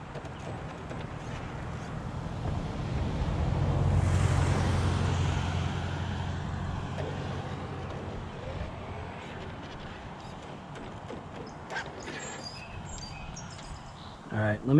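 A vehicle passes on a road, a broad rushing swell that builds to a peak around a few seconds in and then fades away, moderately loud outdoors with faint background ambience.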